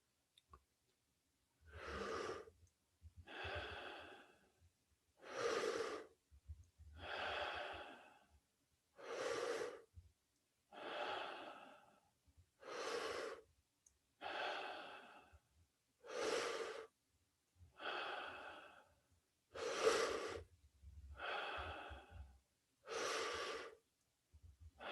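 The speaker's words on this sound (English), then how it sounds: "Keep breathing." A person breathes during a guided breathing exercise, eleven evenly spaced, deep, audible breaths separated by short silences, close to the microphone and fairly quiet overall.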